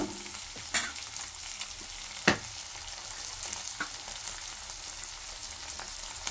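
Curry of broad beans and grated coconut being stirred in a pan, with a few sharp spoon scrapes over a soft, low sizzle, no voices.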